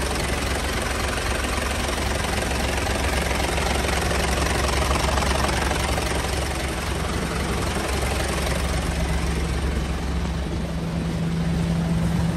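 A 2008 Isuzu Giga 12-wheeler wing van truck with a turbocharged diesel engine in good condition idles nearby, a steady rumbling drone with an even, unbroken low throb and no voices.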